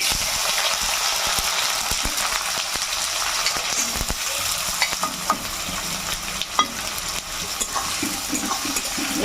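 Chopped small onions fry in hot oil with a steady, loud sizzle, broken by occasional stirring clatters, close up and without talk.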